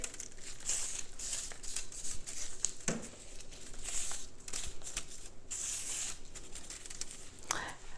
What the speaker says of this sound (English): all I'm going to do is I'm going to put it on my paper towels on my tray